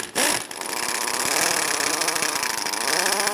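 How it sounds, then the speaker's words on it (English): An impact wrench with a 19 mm swivel-head socket loosens a bolt on a 1997-2006 Jeep Wrangler during a leveling kit replacement, giving a loud, continuous buzzing rattle that runs close and steady for the whole stretch. "We're going to use our swivel head 19 to go ahead and loosen this bolt."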